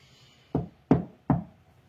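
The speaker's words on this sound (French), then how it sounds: "Il frappe à la lourde porte." Three firm knocks on a heavy door at a school headmaster's office, evenly spaced and close, with quiet between them.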